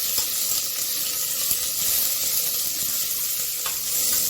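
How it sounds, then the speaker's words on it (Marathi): Ivy gourd and green peas sauté in hot oil, a continuous soft sizzle with occasional faint clicks of stirring, moderately quiet and without talk. "यामध्ये मी तोंडली घालते हिरवे मटर घालते आणि चांगले परतून घेते"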